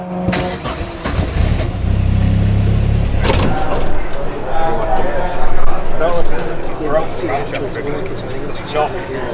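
Modified VW Beetle race car engine being switched off and fired back up, a loud rough low-pitched engine note running throughout, with people talking over it.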